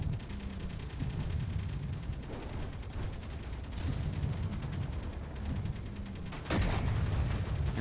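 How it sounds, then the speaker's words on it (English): Turrets and guns fire steadily in a Space Engineers small-grid fighter battle, a continuous rattle of shots with distant booms, moderately loud and dense throughout, with a sharper burst near the end. "And something else is shooting at me there."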